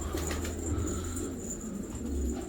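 Pigeons cooing at a feeder: soft, low, continuous coos over a hissy outdoor background with faint chirps, close but quiet.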